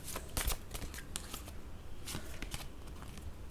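Tarot cards shuffled by hand, a run of crisp riffling and slapping card sounds with brief soft pauses, close and fairly quiet, with no voices.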